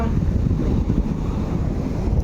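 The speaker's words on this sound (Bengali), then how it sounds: "জল কিন্তু চলে আসছে প্রায় কাছে, বিশাল বড় বড় ঢেউ" Large ocean waves break and wash up a beach at Pondicherry, a loud, continuous roar of surf heavily buffeted by wind noise on the microphone.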